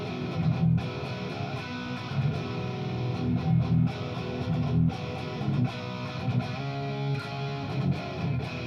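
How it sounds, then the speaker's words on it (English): Distorted electric guitar played through an Engl Invader amp into a third-power cabinet, miked with a Beta 52A, a thick sustained crunchy tone with rhythmic chugging accents, loud and steady for several seconds. "this is the Beta 52A on the Ingle Invader out of the third power cabinet."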